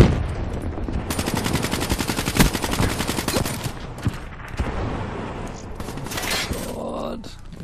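Black Ops 3 video game gunfire rattles in rapid automatic bursts, loud and dense for several seconds, then thins into scattered shots and a final crash.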